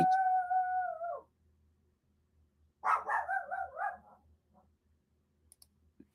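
A dog gives a short burst of barks and yips near the middle, close and fairly loud. It follows a steady electronic tone and a quiet pause, and faint clicks come later.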